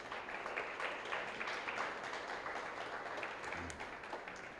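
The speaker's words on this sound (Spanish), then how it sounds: "Dale un aplauso al Señor," A church congregation claps and applauds together, a faint, steady patter of many hands spread through the room from start to finish.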